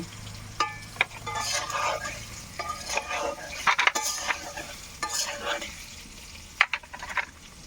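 Prawns being mixed by hand or spoon with ginger, garlic and onion paste, coriander, cumin and green chilli powder, giving soft wet squelching and light clinks against a bowl, steady and close.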